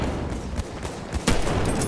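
Shots pop off in Battlefield 1 amid a constant battlefield din, a few sharp cracks standing out, the loudest near the end of the short stretch.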